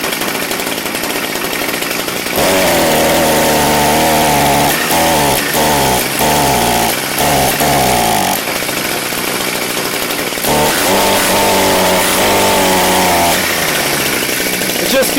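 A Redmax BCZ2460S brushcutter engine runs and warms up, its small two-stroke buzz steady and close, rising and dipping with short throttle changes and brief drops in pitch.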